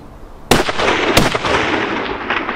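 On a tur hunt in the mountains of Azerbaijan, a rifle fires one loud, sharp close shot followed by a second crack, and the rolling echo lingers across open terrain afterward.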